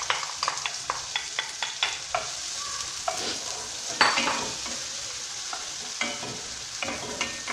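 Thinly sliced onion frying in butter and oil, a close, bright sizzle broken by repeated scraping stirs and light utensil clicks against the pan, no voices.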